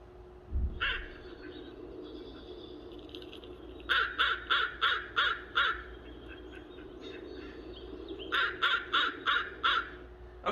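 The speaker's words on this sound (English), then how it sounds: "which I called short structured caws" A crow gives short caws, about 0.2 seconds each, heard as a played-back recording: a single caw, then a run of six evenly spaced caws, and later another series of five, fairly loud over a faint steady hum.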